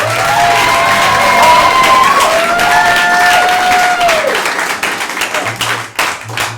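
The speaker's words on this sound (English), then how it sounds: "Give them a round of applause" A live improv comedy show audience claps and cheers loudly for contestants. The dense applause carries steadily through several seconds over a sustained voice, with a few whoops, then breaks up into separate claps near the end.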